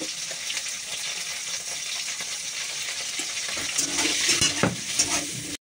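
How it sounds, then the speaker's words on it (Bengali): Bitter gourd fries in a pan with turmeric and salt, a continuous close sizzle with soft stirring scrapes, growing busier and louder toward the end before cutting off abruptly. "একটু হলুদ দেবো আর একটু লবণ দিয়ে উচ্ছেটা ভাজবো"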